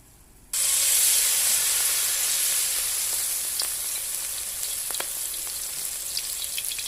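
Shrimp batter fritters deep-frying in hot oil, a loud steady sizzle that bursts in after a brief quiet start and holds with crackling pops throughout.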